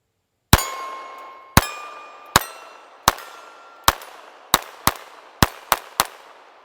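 Ten sharp, ringing shots from an antique Colt pistol fired outdoors, spaced unevenly at first and then quicker, each with a short metallic ring, and no voices.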